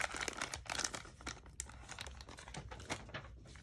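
Twine is tucked back into a small bag, giving soft, irregular crinkling and rustling close by, quiet and without talk.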